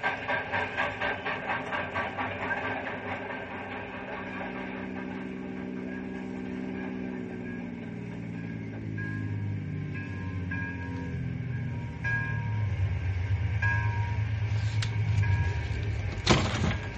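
A radio-drama train pulls away along the railway: a steady rolling rumble with rising and falling mechanical tones, growing heavier toward the end, with a sharp clank near the close.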